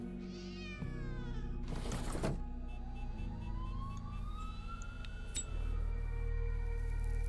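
A cat in a video game apartment meows in short rising cries, followed by a long wailing siren-like tone sweeping over a steady low hum.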